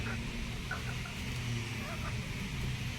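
Kabir chickens cluck faintly in the distance over a steady hum of background noise, with a few scattered calls and no clear talking.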